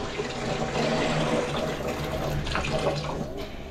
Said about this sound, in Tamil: குக்கரில் தண்ணி வைக்கணும்.